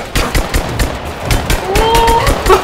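Rapid gunshots from Rise of the Tomb Raider crack out in a steady, evenly spaced string of loud bursts, with a faint tonal sound near the end and little talk.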